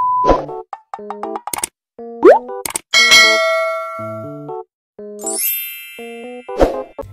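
Bright electronic notification chimes ring out as a string of quick dings and clangs, with a rising boing and a sparkling tinkle, loud and clean with no talking.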